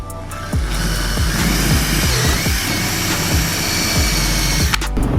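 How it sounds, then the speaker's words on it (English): Power drill with a 1/8 inch bit boring a hole while fitting a Streethunter wing to an A90 Supra, a steady close whine with repeated low chugging pulses as the bit bites, running continuously before a short spike at the end. "We're gonna go ahead and start off with the 1/8 drill bit"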